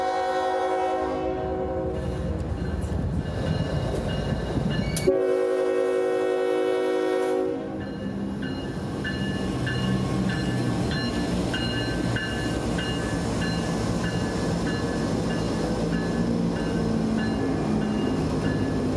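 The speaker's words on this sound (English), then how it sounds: "The engineer is now pulling the consist out of the yard to back onto a different track" Three heavy General Electric freight locomotives rumble loudly pulling out of a yard, with a long blast of the train horn early on, then a steady churning roar as the train moves off.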